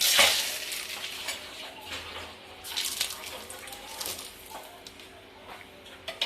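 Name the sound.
bay leaves sizzling in hot oil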